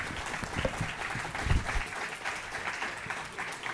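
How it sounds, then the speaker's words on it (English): Audience at the Miami Book Fair claps for the authors of a history and politics session, a moderately quiet, diffuse round of applause with a few louder claps near the start, fading slightly toward the end. "Please join me in a round of applause for our authors"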